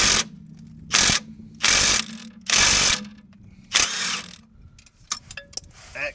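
A wrench clicks through a ratchet in several loud bursts, working a T50 Torx bit on a Jeep Grand Cherokee control arm bolt, with pauses between strokes and a few lighter clanks near the end.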